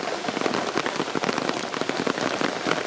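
Heavy, wind-driven hurricane rain from Hurricane Ian in Florida drums steadily and loudly on an umbrella and surroundings, a dense continuous patter with no voices.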